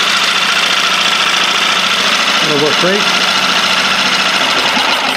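LEHR 5.0 outboard engine idling with a steady, close mechanical hum and light knocking while a person speaks briefly over it.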